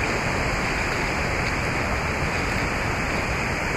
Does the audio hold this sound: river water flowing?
yes